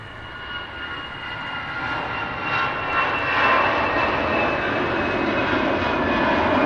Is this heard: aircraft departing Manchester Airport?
yes